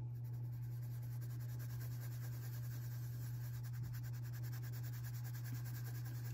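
A pencil colors dark blue on paper in a steady, faint scratching shade-in, soft and continuous under a constant low electrical hum.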